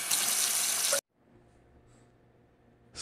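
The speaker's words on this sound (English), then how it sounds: "Turn on water." Water from a sink tap gushes loudly at full flow for about a second, then is cut off abruptly, leaving a quiet room with low hum and a faint rise of sound at the very end.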